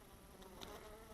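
Bees leaving a hive just dug out from under snow produce a faint, steady buzzing drone, distant and quiet, with no talking over it.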